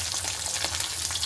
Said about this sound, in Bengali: এখানে আমি 3টে মাছ একবারেই ভেজে নেব।